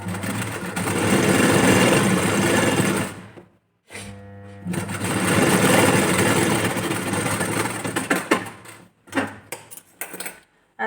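A sewing machine runs in two long bursts while stitching a strip onto a blouse, a fast close whirring rattle with a brief stop between runs and clicking as it winds down.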